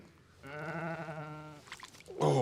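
A sheep bleats in one long wavering cry during lambing on a Scottish sheep farm, close and fairly loud, followed by rustling and the start of a second bleat.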